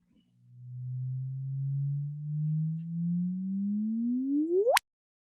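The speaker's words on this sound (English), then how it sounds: "we can actually frequency shift the signal to make it more audible." A gravitational-wave signal from a compact binary merger, frequency-shifted into the audible range, plays alone as a smooth rising tone that sweeps steadily upward for about four seconds and ends in a sharp final chirp.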